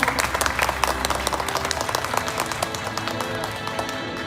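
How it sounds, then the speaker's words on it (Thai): A crowd at a prize draw applauds, dense steady clapping from many hands that fills the room and continues evenly throughout. "ขอเสียงปรบมือหน่อยครับผม"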